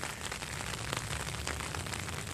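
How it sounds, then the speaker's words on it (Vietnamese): Rain falls steadily in an old Japanese village, a soft, dense patter of drops with scattered brief crackles, fairly quiet and continuous, with no talking. "Hôm nay mặc dù trời mưa"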